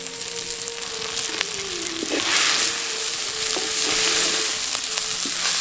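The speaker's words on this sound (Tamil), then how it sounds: "கொஞ்சம் எண்ணெய் ஊற்றி கருவாடை நல்லா வறுத்துக்கலாம்." Dried tuna (masi karuvadu) fries in oil for a kuzhambu, giving a loud, close, continuous sizzle with occasional scrapes and clinks of stirring and no voices.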